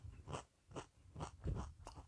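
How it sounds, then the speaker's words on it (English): Crunchy homemade fried corn tortilla chips are bitten and chewed close to the mic, with four or five sharp, evenly spaced crunches standing out against quiet between them. "Hope you love that crunch."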